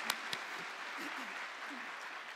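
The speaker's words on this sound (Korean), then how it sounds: "하나님께 영광의 박수 올려드리도록 하겠습니다." A church congregation claps together during a dawn revival service, a steady broadband wash of applause with a couple of sharper claps at the start, moderately distant and without speech over it.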